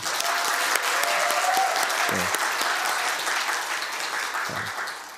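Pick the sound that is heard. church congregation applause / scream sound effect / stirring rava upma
church congregation applause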